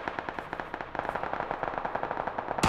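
Automatic gunfire in the battle royale video game PUBG: Battlegrounds, a steady rapid burst of evenly spaced shots running continuously, fairly close, with a louder sharp shot at the end.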